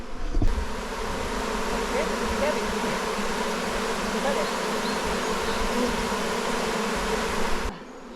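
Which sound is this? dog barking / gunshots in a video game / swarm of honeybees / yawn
swarm of honeybees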